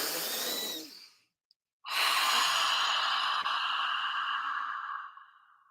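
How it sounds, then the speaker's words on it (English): A slow, deep breath drawn in through the nose and let out through the mouth, close and clear, with a short silent pause between the inhale and the long audible exhale. "In through the nose, out through the mouth"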